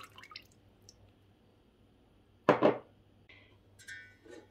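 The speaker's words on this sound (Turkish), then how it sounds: "Son olarak da bir çay bardağı sıvı yağ." A tea glass of vegetable oil is poured into a bowl of pogaca dough ingredients, giving a short liquid splash and glug in an otherwise quiet kitchen.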